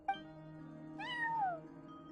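A cat in Genshin Impact gives two distinct meows over a low background hum: a short one at the start, then a longer, rising and falling one. Both are clear and close, with no speech.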